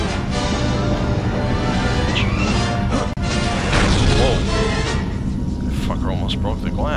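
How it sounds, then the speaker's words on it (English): Glass shatters loudly in the Star Wars Jedi Academy video game, a crashing burst amid dense, continuous game noise and effects. "Broke the glass."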